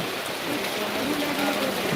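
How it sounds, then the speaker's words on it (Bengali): Rain falling on a street at night, a steady broadband hiss of drops with no distinct events, moderately loud and unbroken throughout. "এই বৃষ্টি মনে হয় কাল অবধি চলবে"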